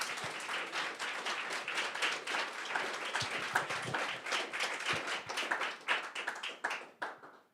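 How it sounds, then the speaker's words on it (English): Audience applause after an evening naturalist talk on the language of birds, a dense steady patter of many hands clapping for several seconds before tapering off, heard alone. "one more round of applause for Nathan, please."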